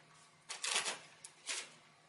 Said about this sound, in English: if I flick the cards like this